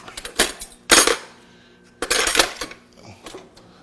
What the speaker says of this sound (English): get another fork, start cutting into this steak